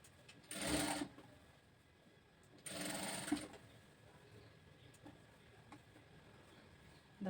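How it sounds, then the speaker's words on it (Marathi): A sewing machine runs an understitch on the lining of a princess-cut blouse in two short, whirring bursts about two seconds apart, each close and steady, with quiet gaps between. "कमरेच्या बाजूने अस्तरला दाबटीप मारून घ्यायची"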